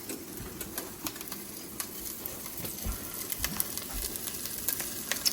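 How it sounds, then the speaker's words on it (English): Food sizzles in a pan while a creamy spinach and artichoke chicken bake is cooked, a faint steady crackle with scattered small pops and clicks throughout. "Here's the sizzle."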